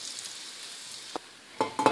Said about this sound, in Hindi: जैसे ज़ीरा गर्म हो जाता है तो फिर मैं तड़का लगा देती हूँ।